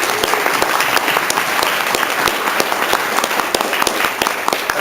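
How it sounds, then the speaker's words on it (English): Sustained audience applause for Republican attorney general candidates at a debate forum, steady dense clapping filling the room for the full length without a break. "Let's give one final applause to both Republican candidates,"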